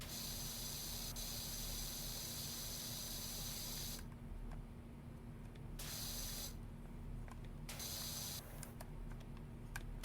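A steady pressurized spray from a pressure washer in the video game Power Washing Simulator hisses continuously, cutting in and out in bursts over a constant low hum, with faint clicking underneath.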